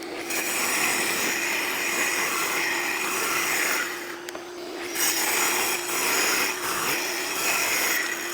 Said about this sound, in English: Just saw me get done using the track saw.